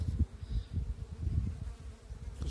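Bees buzz at the hive in a dense, fluttering hum, many wings droning close up with uneven pulses of loudness.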